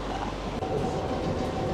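A monorail train in Malaysia rumbles steadily nearby, a low continuous mechanical drone with faint rhythmic rattling, briefly and moderately quiet.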